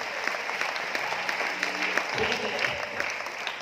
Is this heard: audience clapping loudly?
yes